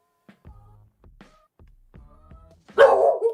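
A dog barks several times in short, spaced yips and woofs indoors, fairly faint, then lets out one louder, harsher bark at the close.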